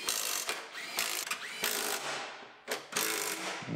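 A ratchet wrench tightens bolts on a Honda CR-V bracket during a collision rebuild, giving several loud, close bursts of rapid clicking separated by short pauses.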